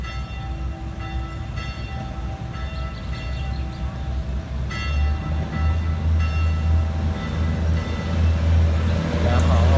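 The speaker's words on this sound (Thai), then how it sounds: "ไปแล้วนี่นะครับ รถไฟธรรมดา" Thai ordinary passenger train 262, Hua Hin to Bangkok, departs Ban Pong station slowly, low engine drone and wheel rumble growing louder toward the end, with faint background noise.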